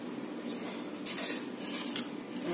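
Fish jhuro made from singi fish being served onto a plate of rice, with light scrapes and clinks of a spoon against the dish, a few brighter clatters standing out over a faint background hiss.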